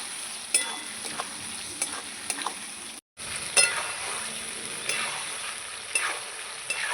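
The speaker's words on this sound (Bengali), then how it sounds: "এবার একটু কষাবো ভালো করে" Ground spice paste and potatoes sizzle steadily in a hot pan while a spatula stirs and scrapes, with light clinks now and then over the constant frying hiss and a brief silent cut midway.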